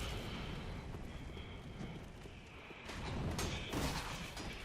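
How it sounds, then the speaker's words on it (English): Dragon breathing fire in Dark Souls 3 at the High Wall of Lothric, a broad roaring rush that swells and grows louder toward the end. "a dragon will come down and breathe fire on you"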